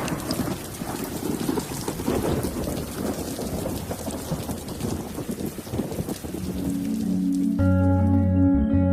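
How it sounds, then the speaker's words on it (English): Heavy rain pours with rumbling thunder in a dense, loud, continuous wash in the wild, before sustained music swells in near the end. "Even at the height of the rainstorm"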